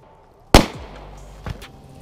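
A single loud gunshot at an outdoor shooting range, fired at a fruit or soda target, with a sharp crack followed by a short rolling echo and a fainter secondary thump about a second later.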